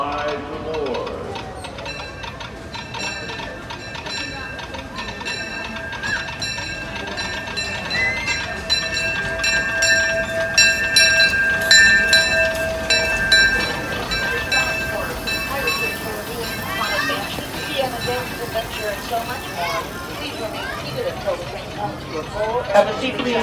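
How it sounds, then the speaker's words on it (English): A Disneyland railroad train at night rumbles and clatters steadily along the tracks for a long stretch, with faint voices and a bright ringing tone over the continuous rolling noise. "The train is still moving."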